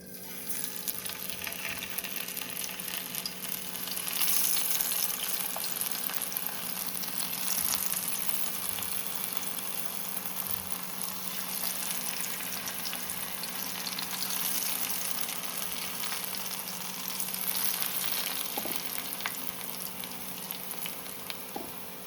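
Prawns fry in hot oil over a medium flame, a steady, dense sizzle and crackle that holds close and fairly loud without pause for over twenty seconds, with no voices.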